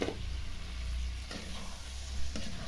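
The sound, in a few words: boiled pasta added to a pan of frying spices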